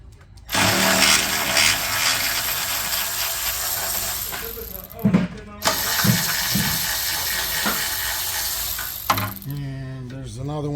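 Ratchet with an 8mm socket working a heat shield bolt loose on a Porsche PDK transmission, a steady close buzzing whir through most of the clip with brief pauses and clicks between runs.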